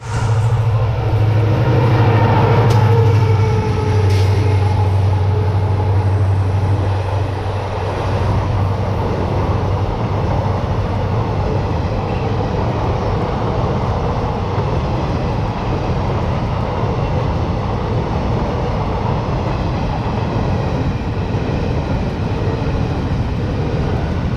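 MEMU local train running along the Konkan route between Diva, Roha and Chiplun, a loud continuous rumble and roar of the moving train with a steady hum and wind noise, heard from on board with no talking.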